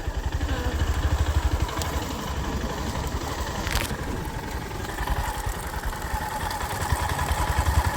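A motorcycle engine chugs steadily up close on a forest ride with a rhythmic low putter and occasional rattles, running throughout without speech.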